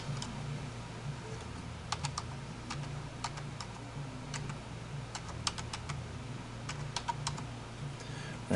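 Card number typed on a computer keyboard at a point-of-sale station, with irregular faint key clicks in short clusters over a low steady background hum.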